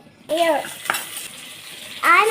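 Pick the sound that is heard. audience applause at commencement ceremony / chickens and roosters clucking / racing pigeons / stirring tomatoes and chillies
stirring tomatoes and chillies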